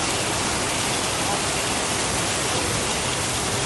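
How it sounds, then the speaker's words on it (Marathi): Heavy monsoon rain pours down steadily on a street in Kalyan, a dense, even hiss that stays at the same loud level throughout. "पाऊस इतका मुसळधार आहे"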